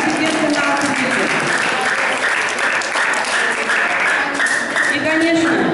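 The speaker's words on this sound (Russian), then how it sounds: "Давайте похлопаем." Audience at a school event in Kentau applauding honour students, with steady, dense clapping throughout and a voice speaking over it.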